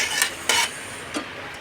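Rice is tipped into a pot for ghee rice in a home kitchen, giving two or three short, bright rattling bursts against a steady background hiss.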